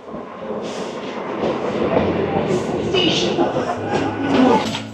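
A morning local train to Hasnabad from Sealdah runs steadily with a continuous rumble and rattle from inside the carriage, while people talk faintly in the background.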